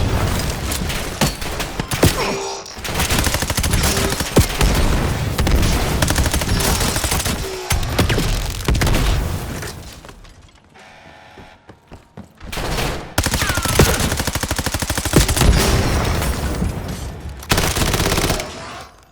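Sustained automatic gunfire and rapid bursts from the video game Black Ops 7 fill the scene, loud and dense, with a brief lull in the middle before heavy firing resumes.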